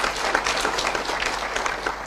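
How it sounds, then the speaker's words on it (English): Audience applause fills a formal government ceremony hall, a steady wash of many hands clapping at moderate distance with no voices over it. "Let's also give him a better round of applause"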